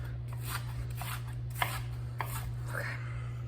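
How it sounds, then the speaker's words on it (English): A knife chops ingredients for a homemade pasta sauce, giving a few sparse, irregular strikes over a steady low electrical hum and faint background noise. "just chop it"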